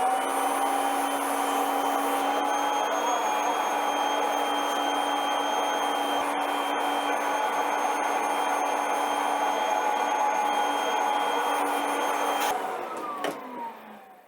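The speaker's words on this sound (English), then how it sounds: "And unlike the pleated filters, these you can actually vacuum." A vacuum cleaner runs over a washable AC filter with a loud, steady, close droning whine that holds for about twelve seconds before the motor shuts off and winds down.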